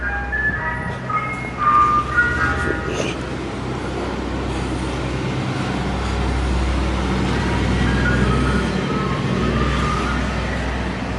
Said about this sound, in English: Why is there an ice cream truck this late at night?